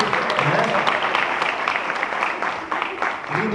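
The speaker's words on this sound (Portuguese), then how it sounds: "uma salva de palmas aí para os dois atores" A church audience applauds two actors after a skit, giving steady, dense clapping that fills the space for several seconds, with a voice faintly mixed in.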